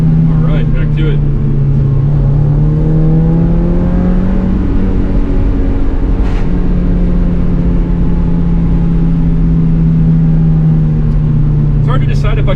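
An NB Mazda Miata's engine revs continuously and loudly through the gears on a mountain road, pitch climbing and falling with shifts near 7,000 rpm, steady and close throughout.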